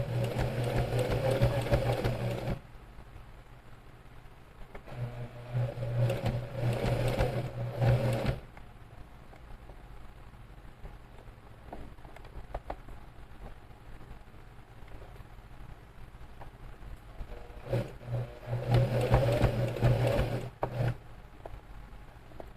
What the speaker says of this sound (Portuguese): Vou primeiro dar um ponto, um retrocesso só de um ponto. E aí eu dou continuidade à costura.